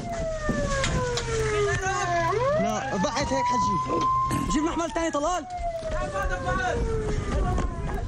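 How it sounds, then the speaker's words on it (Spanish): A White Helmets rescue vehicle in Syria speeds along with its siren wailing, rising and falling sweeps that run continuously over engine and road rumble, loud and close throughout. "Los cascos blancos conducen a toda velocidad y con la sirena abierta para tratar de prestar ayuda"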